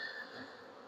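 Honey bees hum in an open beehive during an inspection, a low, steady droning buzz from a crowded box, soft and continuous.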